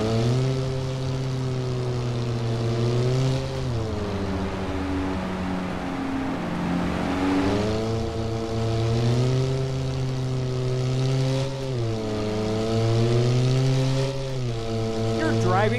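Car engine in the Taxi Sim 2020 video game, a loud steady hum rising and falling in pitch as it revs and shifts while driving fast, continuous throughout.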